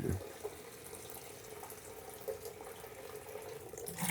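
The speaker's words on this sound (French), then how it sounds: "je viens topper ça avec du kombucha nature pour bien rincer et remplir le fût" Plain kombucha pours into a keg to rinse and fill it, a continuous gurgling liquid stream, quiet and close; no voices.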